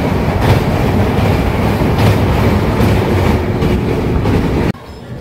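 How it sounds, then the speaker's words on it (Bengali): Tamralipta Express from Howrah to Digha running just after leaving Tamluk station, a loud, steady rumble and clatter of wheels on rails that holds throughout, then drops sharply near the end. "তো এই মুহূর্তে আমরা তমলুক স্টেশন ছেড়ে কিন্তু চলে যাচ্ছি।"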